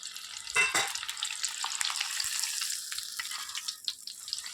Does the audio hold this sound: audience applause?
no